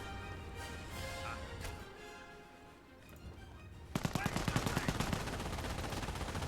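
Machine gun fire in the WWII strategy game Company of Heroes, with German forces firing: a rapid burst of loud, evenly spaced shots breaks out midway and keeps going under a steady battle backdrop.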